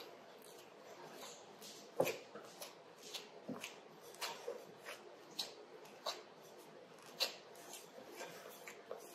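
A fork cuts butter into biscuit dough in a bowl, making faint, irregular scraping taps and soft clicks that repeat in quick bursts.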